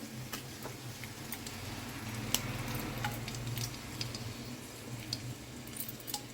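Dried red chillies frying in hot oil for an upma tempering, a steady soft sizzle with scattered faint ticks and crackles, close and continuous throughout.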